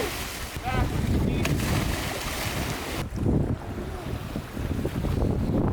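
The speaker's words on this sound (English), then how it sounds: "The wind is howling and the water is rough" Strong wind howls across rough seawater beside a jetty on a stormy South Australian coast, a loud continuous roar with buffeting gusts on the microphone and waves churning underneath.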